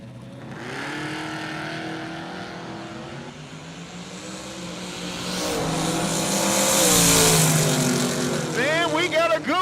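Drag cars launch at a Brown County street-car event, a Firebird on 31/18 tires in the left lane beside a 5.3 SS. Engines roar loud and close, the pitch climbing and swelling as the cars pull away.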